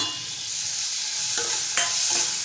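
Bitter gourd and chopped tomato being stirred in a hot pan, a steady close sizzle with a few soft scraping strokes of the spoon, no talking.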